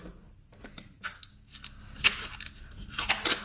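Scissors snip off the edge of tape stuck to a paper plate, sounding as a series of close, crisp cuts with crinkling paper between them.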